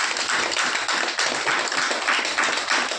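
A seminar audience at a direct sales talk claps for Dipak, a steady crowded patter of many hands heard fairly close and continuing throughout without voices.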